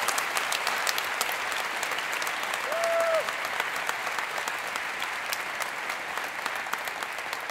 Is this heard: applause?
yes